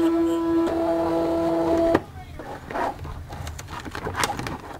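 A Cricut cutting machine unloads its mat with a steady motorized whine that ends abruptly, followed by faint rustling and handling noises.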